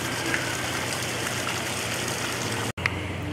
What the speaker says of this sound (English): This is nice, got a nice little waterfall.